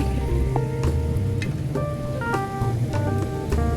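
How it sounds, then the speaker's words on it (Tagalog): Heavy rain pours down in a town centre, a dense steady hiss with a low rumble beneath and scattered drips or clinks on nearby surfaces, continuous and fairly loud. "Ang ulan."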